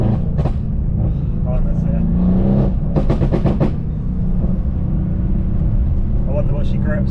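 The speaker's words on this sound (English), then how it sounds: "I'm at 1800 RPM and you can just hear it with the valve open." Tuned 630 bhp Mercedes C63 AMG running at low revs with its exhaust valve open, a steady deep rumble throughout with a few small pops, while someone talks over it.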